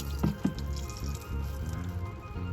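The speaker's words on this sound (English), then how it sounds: "Drain the coolant now" Coolant draining out of an engine on a $1500 jet ski during a teardown, a steady low liquid trickle and dripping with a couple of brief splashy gurgles near the start, close and fairly quiet.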